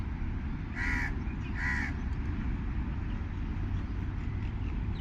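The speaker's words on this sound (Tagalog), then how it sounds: "Oh, yung uwak ko ayun." Two loud, harsh caws from a crow ring out about a second apart over a steady low rumble of background noise, with no voices.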